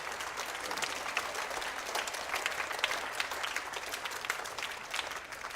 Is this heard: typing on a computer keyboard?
no